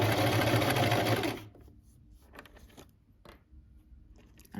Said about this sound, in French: Donc vous allez coudre à 1 cm du bord dans un premier temps.